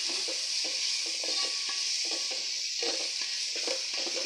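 Onions sizzle and crackle steadily in a hot pan while being fried for a crab curry, a continuous close frying hiss with faint stirring scrapes throughout and no talking.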